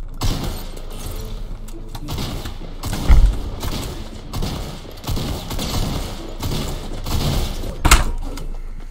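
Gunfire in the Fortnite video game, with repeated bursts of shots and sharp impacts spread across the stretch and a couple of louder hits standing out, with no talking.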